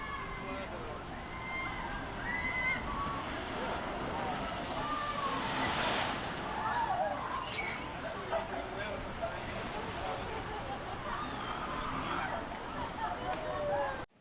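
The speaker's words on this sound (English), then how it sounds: "watch as one of the boats is released at the top, goes around the big curve, and then makes the drop and splashdown, coming right toward us" A log flume boat at Mystic River Falls in Silver Dollar City, Branson, Missouri, makes its drop, and a steady rush of water swells into a splashdown midway, with park voices and wind in the background.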